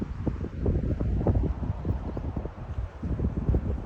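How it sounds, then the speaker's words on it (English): Strong gusting wind at a creekside campsite, buffeting and rustling steadily with fluttering bursts, fairly close and moderately loud, no voices heard. "the wind today has been blowing something terrible"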